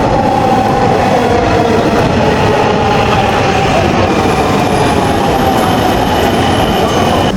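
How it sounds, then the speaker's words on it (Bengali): A Dhaka metro rail train pulling into a station platform, with a loud, close, continuous rumble and rolling wheel noise and a faint high squeal above it. "আমরা এখন ওয়েট করতেছি রেল আসার জন্য।"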